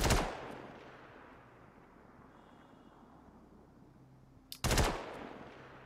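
Gallant assault rifle by Klaus & Werner in the video game Star Citizen fires two short, loud bursts, one at the start and one near the end, separated by a quiet stretch of low ambient rumble.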